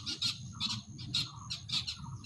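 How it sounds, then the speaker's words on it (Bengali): Small birds chirp and tweet around a village, with repeated short bursts of song about every half second over a low background rumble, fairly faint and with no voices. "দেখো কত সুন্দর পাখির শব্দ আশেপাশে"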